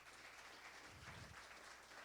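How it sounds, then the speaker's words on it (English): An audience at a ReactJS meetup in Denver gives a round of applause, a faint, distant patter of clapping that stays steady for a couple of seconds with no talking. "Can you guys give them a round of applause?"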